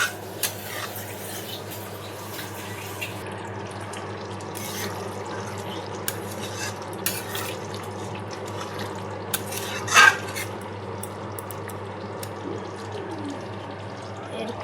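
Paneer cooks with yogurt in a pan, a spoon stirring and scraping with occasional clinks against the metal, with a voice talking faintly in the background.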